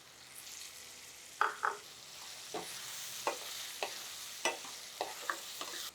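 Tomato pieces cooking in oil in a pan for onion pulusu, a soft steady sizzle with a series of sharp scraping stirs and taps spaced a second or so apart, close and moderately quiet, no talking.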